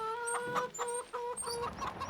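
Chickens in Farming Simulator 25 cluck repeatedly in quick, close, bright bursts, a flock that includes young chicks, with no talk over them.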